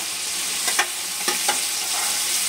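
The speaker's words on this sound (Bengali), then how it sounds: "এবার যে মাছটা আমি ছাড়িয়ে রেখেছি এখানটা ভালোভাবে সেই মাছ কটা দিয়ে দেবো তেলের মধ্যে।" Fish frying in hot oil with garlic, onion and chilli makes a loud, constant close sizzle, broken by a few brief spatula scrapes and clacks, with no voices.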